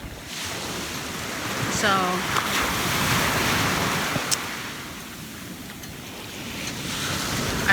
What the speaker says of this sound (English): Good morning from the beach.